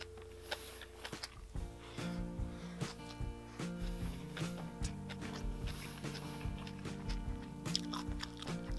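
Someone eats bean sprout bibimbap mixed with butter, with close, steady chewing and soft crunches carrying on without pause and no talking.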